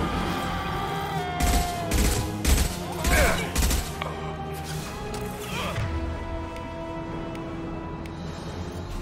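Gunfire in the video game Mass Effect 2 comes as loud bursts of rapid shots, crashes and thuds. Several dense volleys cluster in the first half, and the sound then thins to a busy background.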